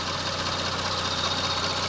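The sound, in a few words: Toyota Camry 30 engine idling on petrol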